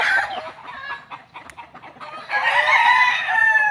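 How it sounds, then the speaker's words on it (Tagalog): Chickens cluck and chatter close by in a small backyard coop behind a house, with a rooster's crow rising loudly in the second half over the flock. "Ayan po yung mga manok natin"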